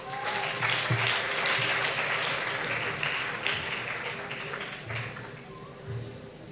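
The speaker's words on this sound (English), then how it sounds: "And one more time, let's give them a round of applause." A crowd applauding debate speakers at a school debate championship grand finale between St. Mary's College Kisubi and Kawempe Muslim SS, a dense sustained roar of clapping across a hall, with some voices mixed in underneath.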